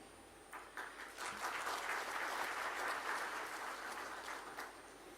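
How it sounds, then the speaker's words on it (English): Steady applause from a conference audience in a large hall, fairly distant and even, swelling after a few scattered claps and holding strong for several seconds. "You deserve the applause"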